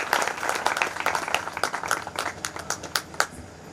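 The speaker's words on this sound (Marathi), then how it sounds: "एकदा मोठ्या जोरदार टाळ्या वाजवू आपण सर्वांनी" Enthusiastic applause from an audience at a Marathi book release ceremony held in a Datta temple in Yavatmal, with dense, steady clapping that stays fairly close and loud for several seconds.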